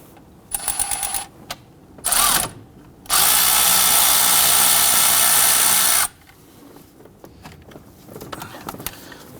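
Power tool bursts working a 10mm nut on the alternator power cable of a 2007-2021 Toyota Tundra 4.7L V8: two short whirs, then a loud sustained run of about three seconds, followed by faint clicks and handling noises.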